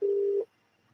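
A single ringback tone sounds on a phone line as an outgoing call rings out, a clean steady beep of under half a second followed by near silence.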